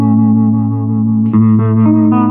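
A Fender Champion 100 solid-state 2x12 combo amp plays sustained electric guitar notes through a fast slapback delay, the tone steady and loud, with a brighter chord change partway through and no talking.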